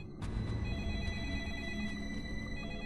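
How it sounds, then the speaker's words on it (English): In the video game Deadly Premonition, a telephone rings inside an abandoned building, a steady electronic ringing tone that holds evenly over a low background hum. "Also, this phone is ringing."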